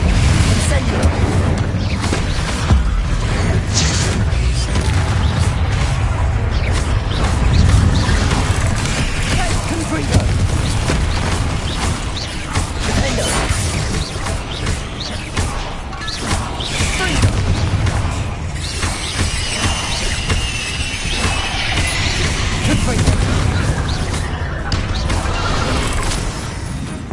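Fire and blast spells in Hogwarts Legacy go off in a loud, continuous barrage of booms, crashes and bursts, with a player's voice talking over the din.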